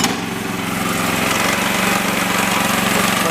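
A small engine on a rail-mounted machine runs loud and close at steady throttle, a continuous rough drone with a pulsing firing rhythm throughout.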